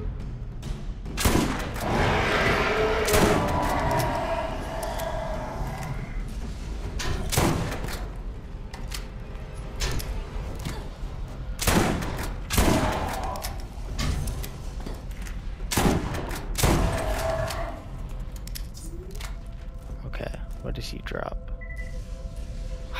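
Rifle gunfire in the video game Borderlands: several loud, sharp shots spaced a few seconds apart, with a voice talking over and between them.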